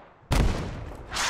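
A single loud blast from a rocket, grenade or mortar in the WW1 shooter Beyond the Wire hits suddenly and close, then rumbles and decays for about a second.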